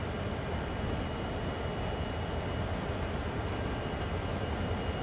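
A train rumbles steadily past with a constant low roar and clatter, loud and continuous throughout, no voices, in the train simulator game Train Sim World 2 on the Sand Patch Grade route.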